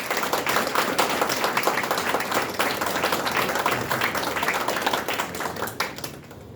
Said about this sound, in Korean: 뜨거운 박수와 환호로 이광문 후보를 모시겠습니다.